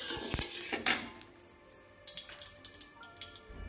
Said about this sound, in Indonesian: Nah, ini kita panaskan wajan, kemudian masukkan 2 sendok makan minyak sayur kurang lebih.